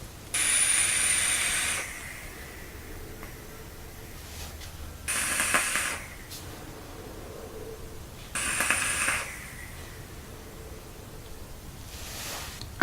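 Three long exhaled vaping pulls through a CLT RDA atomizer by Infinite, each a close breathy hiss of a few seconds separated by quiet pauses.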